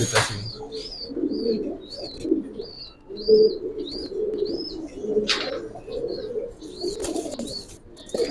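A silver pankhi military pigeon coos repeatedly close by, a series of short rising calls in a steady rhythm, with low murmuring voices underneath.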